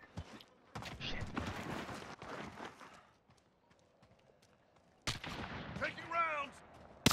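Gunfire bursts in a team-based military shooter game, with sharp loud cracks and clustered shots early on, a quiet gap, then more close shots with a voice talking over them.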